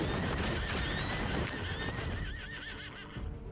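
Horses neigh and whinny repeatedly in the strategy game Commander Quest, with loud overlapping calls over clattering hooves and game noise, fading toward the end.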